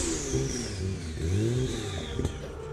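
An AMS Performance Alpha 12 Nissan GT-R, a 1,100-horsepower tuned sports car, revs its engine loudly and close by, rising and falling in pitch through repeated throttle blips.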